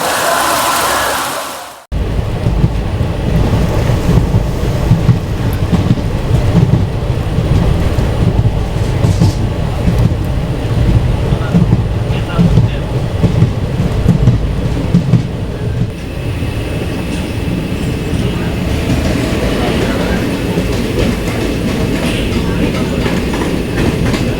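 Heavy rain pours down during a thunderstorm while a Circar Express train stands waiting, a loud, dense, unbroken wash of noise with faint low rail rumble beneath and no voices.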